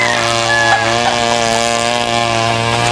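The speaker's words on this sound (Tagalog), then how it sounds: "ang lakas nung sounds ng grass cutter." A grass cutter running near a farm holding broodstag roosters, a loud steady engine drone with strong harmonic buzz, continuous throughout at close range.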